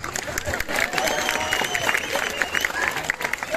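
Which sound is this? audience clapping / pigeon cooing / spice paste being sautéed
audience clapping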